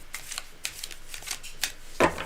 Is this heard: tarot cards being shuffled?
yes